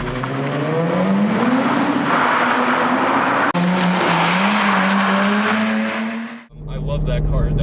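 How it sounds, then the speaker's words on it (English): 2006 Nissan 350Z drifting: a loud, steady engine roar with rising and falling pitch and sustained tire squeal, broken by a brief gap near the end before the engine and tires come back. "I actually had a 2006 Nissan 350Z, which I'll insert clips of here."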